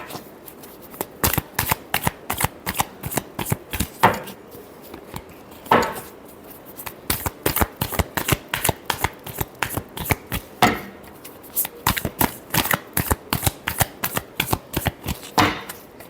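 Tarot cards are shuffled loudly and up close in repeated rapid riffling bursts, each made of quick flicking snaps, with short pauses between the shuffles.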